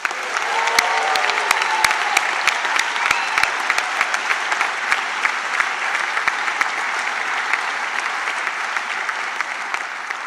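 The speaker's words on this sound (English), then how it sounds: "Next, big round of applause for Rick Powell." An audience at the Clipper Round the World Yacht Race crew allocation applauds skipper Rick Powell, loud continuous clapping with sharp individual claps standing out, a brief voice near the start.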